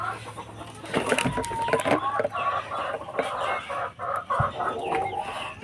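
Backyard Black Australorp hens cluck steadily at close range in an irregular run of short calls, with other fowl chattering in the background throughout.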